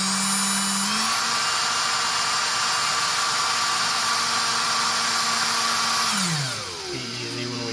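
A power driver sinks a screw into a drilled hole in the landing gear of a DIY FPV spider quad. It whines loudly and steadily, then rises in pitch and winds down near the end.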